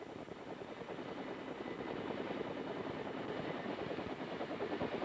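AH-1G Cobra gunship helicopter in flight, a steady dense rotor and engine drone with a fine rapid beat, continuous and even in level throughout.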